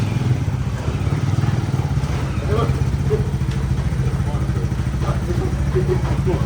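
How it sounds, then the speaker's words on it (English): A small motorbike engine runs steadily and evenly nearby, a continuous mid-pitched drone with a light mechanical clatter, the bike in South East Asia recently recovered from a partly blocked fuel injector. "the bike was running mint, like nothing ever happened"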